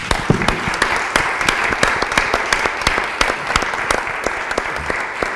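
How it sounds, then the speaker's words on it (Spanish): Audience applauding at a round table discussion on art, a lively, continuous clatter of many hands with crisp individual claps standing out, moderately loud and steady throughout, no speech. "Le damos un aplauso."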